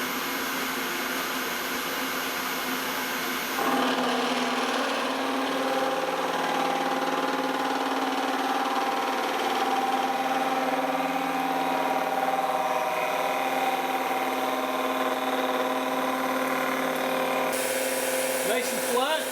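A milling machine with an AccuSize Industrial fly cutter takes a 3-inch flat cut, a steady motor hum joined by a rough, continuous cutting whine that persists evenly to the end.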